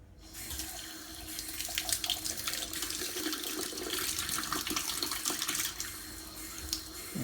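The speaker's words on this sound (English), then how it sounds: "now to wash the tomatoes" Kitchen tap running steadily into a sink while tomatoes are washed for a simple tomato pasta, a loud, continuous splashing rush with no talk.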